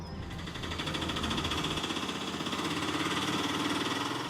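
A motorbike engine in poor condition runs steadily nearby, a continuous rough, rattling drone with a fast pulsing vibration that holds at a constant level throughout.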